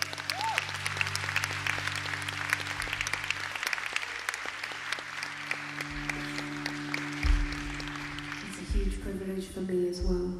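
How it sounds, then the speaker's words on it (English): A concert audience in a Leipzig theatre applauds the sound engineer, sustained clapping over a low droning synth tone, with voices and music rising near the end. "So a round of applause."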